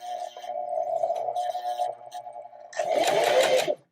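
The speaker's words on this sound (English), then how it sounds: "We're going to put our needle down, and we're going to make a few bar tack stitches along the bottom." A sewing machine making bar tack stitches across the bottom of a buttonhole, a steady mechanical whirring hum that pauses briefly, then runs again louder and busier, close and alone without talk.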